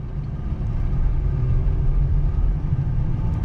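A 2009 Honda Pilot Touring with 144K miles is heard from the cabin while driving in traffic, its engine a steady low drone and road rumble that swells slightly and holds even throughout, with no talking.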